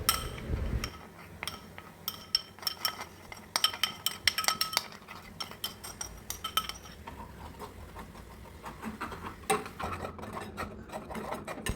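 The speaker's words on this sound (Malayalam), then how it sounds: "ഈ പൊട്ടറ്റോ പേസ്റ്റ് അതിലേക്ക് ഒഴിച്ചു കൊടുത്ത് നന്നായി ഇളക്കി കൊടുക്കാം" Aloe vera juice and potato paste being stirred in a pan, a spoon clinking and scraping steadily against the metal in quick, close, repeated strokes.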